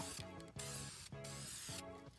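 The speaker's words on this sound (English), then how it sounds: "Pretty good, smart idea for outlining is I spray paint" Aerosol spray paint hisses in three bursts of about half a second each, close and loud, while outlining a trunk part on an S2000, with a mechanical rattle at the edges of each burst.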